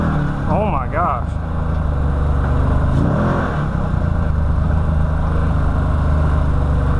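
A 2013 Can-Am Maverick side-by-side idles with a loud steady engine drone, with a couple of rising revs early on and a voice briefly heard over it.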